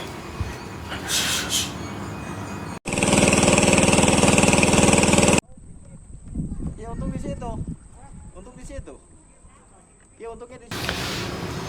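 A boat engine drives across an estuary on the Bekasi coast, a loud, steady engine drone that comes in bursts, with people talking in between.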